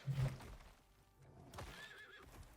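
A horse in the survival game Icarus neighs loudly and then whinnies again in a shrill, wavering call while attacking the player, with hoof thuds in between and no talk.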